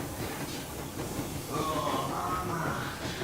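Steam train rolling on rails in the video game Metro Exodus, a steady broadband rumble and hiss with a brighter tonal whine rising midway, continuous and fairly close, no talking.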